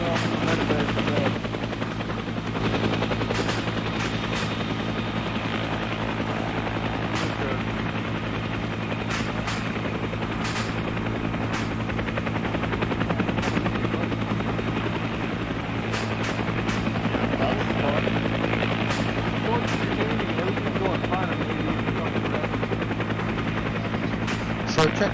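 Medevac helicopter in a Vietnam War combat video game, its rotor drone steady and loud for the whole stretch, with sharp intermittent gunfire crackling above it and voices talking now and then.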